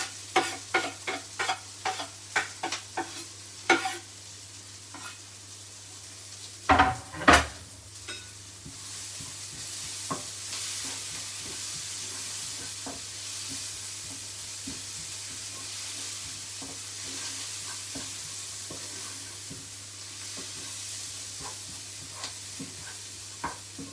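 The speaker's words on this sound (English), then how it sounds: "Now it's time to add the ginger, chilli and garlic." Ginger, chilli and garlic fry in a pan, a steady soft sizzle broken by sharp clicks and stirring scrapes, with a low hum underneath and a couple of louder clatters early on.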